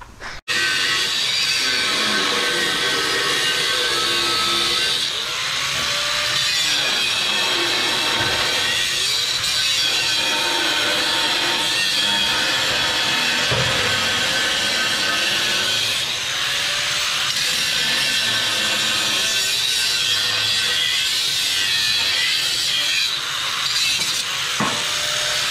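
A metal piece for a Houle 5800 manure tank spout is cut with a power tool, a loud, harsh, continuous grinding and rasping that runs close up with small shifts in pitch throughout.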